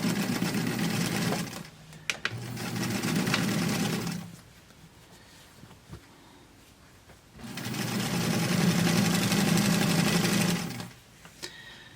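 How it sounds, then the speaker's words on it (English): Sewing machine stitching American Girl doll clothes, running in two steady, close bursts of rapid mechanical whirring with a quiet pause between them and faint handling clicks. "Stitch this side down as well."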